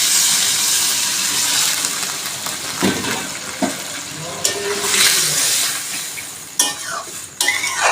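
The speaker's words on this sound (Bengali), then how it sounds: "পরিমাণ মতো জল দিয়ে দিচ্ছি বন্ধুরা।" Water poured into a pan of frying potato and soybean curry, a loud continuous hiss and sizzle with stirring and scraping of a spoon, plus a few sharper clatters toward the end.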